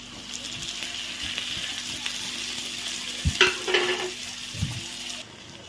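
Tomatoes fry in a pan for egg curry with a steady sizzle, broken by a few scraping stirs and clinks of a spoon partway through. The sizzle runs loud and continuous until it drops off abruptly at the end.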